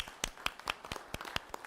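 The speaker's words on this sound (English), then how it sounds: "I'd appreciate another quick round of applause for him." A short burst of scattered hand claps at a Putnam County board of commissioners meeting, a handful of sharp, uneven claps from a small group in a room.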